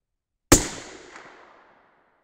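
A single 6.5 Creedmoor rifle shot from a Thompson Center Compass with a 22-inch barrel, fired at a 100-yard range with a Reloder 26 handload: one sharp, loud crack followed by a decaying echo, with no talk.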